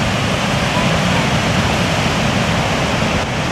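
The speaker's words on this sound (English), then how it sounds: "we're at Athabascan Falls, just south of Jasper" Athabasca Falls south of Jasper, a glacier-fed waterfall amid rock, granite and slate, roars as a steady, loud broadband wash of falling water that holds constant throughout with no break.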